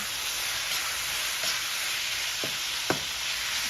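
Spaghetti with ground beef, Rotel, black pepper and seasoning tossed and stirred in a pan, a steady soft sizzle with a few light scraping clinks near the end, no talking.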